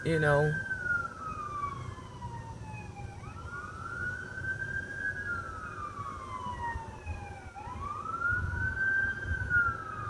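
An ambulance siren wails, rising and falling in long, slow sweeps, fairly distant, over a steady traffic-like background with a voice briefly at the start.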